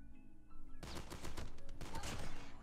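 A burst of shotgun fire in the Call of Duty Mobile video game sounds as several loud, rapid blasts that run together into a dense stretch of gunfire.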